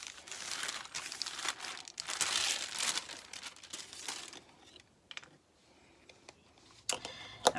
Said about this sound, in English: I'm just going to put some parchment and rub over it to set that powder a bit.